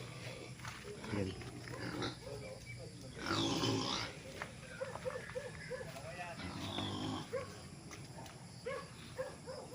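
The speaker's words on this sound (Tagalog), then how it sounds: "Ngayon ang nakakulong sa piggery mga baboy ramo." Wild boars penned in a former piggery on a farm lot in Pagsanjan, Laguna, giving short repeated grunts amid faint background chatter and occasional nearby voices.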